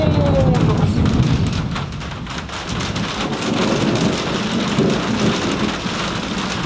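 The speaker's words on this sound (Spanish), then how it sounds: "hay unos truenos y unos rayos que me van a matar" Heavy rain falls steadily during a thunderstorm, and deep rolling thunder rumbles underneath.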